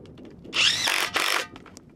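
A power drill drives screws to secure a pier form for a barndominium foundation, two close whirring bursts with a short pause between, near and fairly loud.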